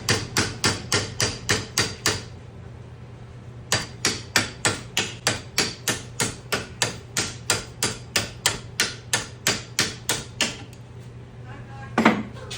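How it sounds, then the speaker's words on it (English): A hammer strikes a sticking brake caliper slide pin over and over in fast, even metallic blows, pausing once before another long run of hits and a louder final knock. "So hammer and pull."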